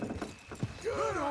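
Horse hooves clop briefly, then a horse lets out a short whinny, heard up close in a Red Dead Redemption II game scene.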